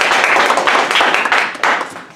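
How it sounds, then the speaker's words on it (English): An audience applauds students at a school announcement, dense overlapping claps swelling and fading continuously, loud and close throughout. "Let's give a round of applause to our students."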